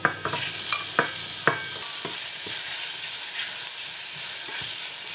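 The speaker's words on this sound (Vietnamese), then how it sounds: "Rồi mình xào nấm đông cô." Shiitake mushrooms stir-fried with garlic and ginger in hot oil, a constant sizzle punctuated by several close scraping clacks of a utensil against the pan.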